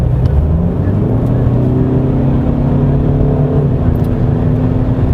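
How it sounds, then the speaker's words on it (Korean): A 2021 Volkswagen Passat GT 2.0 TDI diesel engine revs in sport mode, a loud, steady droning hum with rising harmonic tones heard from inside the car, no talk over it. "이렇게 회전수를 높게 쓰면은 방금 말씀드린 것처럼 그 비례해서 엔진 소리가 그렇게 커지는 편은 아닌데"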